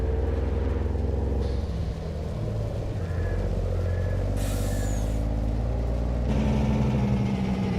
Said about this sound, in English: It has a Jake brake, as you can hear.